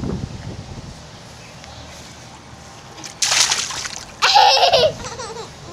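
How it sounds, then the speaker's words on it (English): On a beach outing, a child throws water, making two short splashing bursts a second apart, with a baby laughing softly before them. "You throwing the water?"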